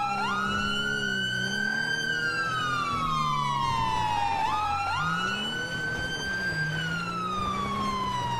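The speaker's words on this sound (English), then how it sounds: "I love doing the sirens." A police siren in the video game FiveM (FivePD) wails continuously, its pitch sweeping up and down in long slow cycles, loud and close with an engine rumble beneath.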